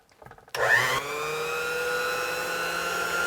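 A vintage electric mixer starts up at 0.5 s and runs steadily on high, whipping heavy cream with a continuous motor whir and a strong, sustained tone. A few faint handling clicks come just before it starts.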